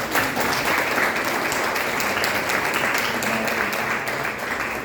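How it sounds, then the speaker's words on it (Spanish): An audience at a book presentation applauds steadily, a dense, even wash of clapping that holds at full strength throughout with no gaps. "pido un fuerte aplauso también para él"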